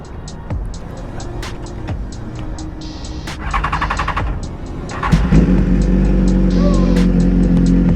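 BMW S1000RR sport motorcycle engine idling nearby, then revving up sharply around the midpoint and holding a loud, steady roar to the end, with brief speech heard early.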